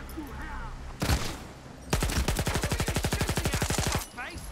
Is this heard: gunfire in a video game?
yes